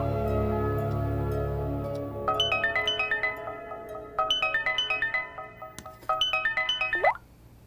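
A phone ringtone plays a bright, repeating melodic pattern in several bursts, cutting off abruptly after a low hum at the start.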